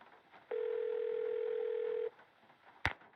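A cell phone dial tone from the Nancy Drew: Legend of the Crystal Skull game plays as a steady, clear tone for about a second and a half. A short sharp click follows soon after.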